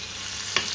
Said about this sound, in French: Et là je vais commencer par faire revenir les oignons et le poireau.